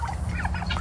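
A turkey gobbles close by next to a feed bucket among farm birds, one brief rattling burst up front.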